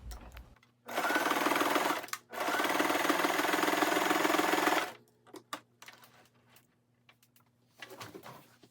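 A sewing machine stitches hoodie fabric in two close, fast bursts with a short pause between them, followed by quiet handling sounds and a pigeon cooing faintly in the background.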